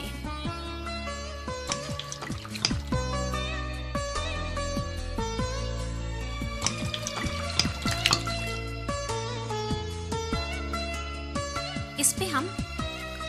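Hot water poured during a sanitary pad absorbency demonstration, a steady liquid trickle with splashes and drips, close and continuous, with speech in the background.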